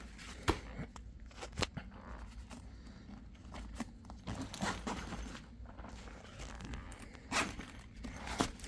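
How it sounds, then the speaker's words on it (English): A zipper on a Nomatic/Gomatic travel bag is pulled open in a quiet room, giving a few short, soft rasping bursts with small clicks and shuffles between them, close and faint. "So this side has a zip also, which is the opposite side."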